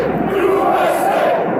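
A large crowd of union construction workers outside Trump Tower in New York chants in unison, a loud, close, continuous roar of massed voices.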